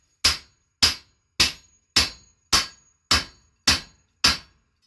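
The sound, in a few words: hammering to knock cut pieces off a wheel rim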